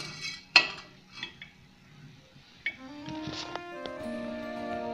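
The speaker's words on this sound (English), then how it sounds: "And if I stir this, you see all that silver foil which is floating around." Silver foil being stirred in an etching solution with a utensil, giving light clinks and taps against a glass or metal container, followed by ringing, resonant metallic tones toward the end.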